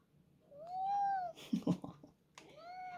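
A cat meows in complaint: two long, drawn-out rising-and-falling meows, close and fairly loud, separated by a short burst of rustling and thumping.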